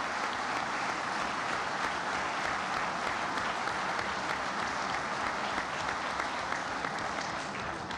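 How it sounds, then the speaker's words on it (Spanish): Sustained, even applause from a large audience at a state government report ceremony honoring the state's wineries, a steady wash of clapping with no talk over it. "Un aplauso y una felicitación a todas las casas vitivinícolas de nuestro"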